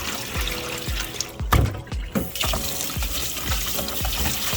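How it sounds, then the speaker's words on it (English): Water sloshes and swirls repeatedly in a pot as rice is rinsed clean, with rhythmic splashes and a louder pour in the middle. "I get into the habit of washing this rice really well now,"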